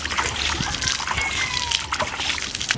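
Water sprinkled by hand over kulekhara greens set in a pan, a brief splashy patter and trickle, close and fairly loud, with a voice speaking alongside.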